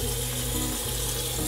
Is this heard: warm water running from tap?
yes